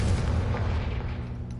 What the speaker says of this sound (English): now if I use Confringo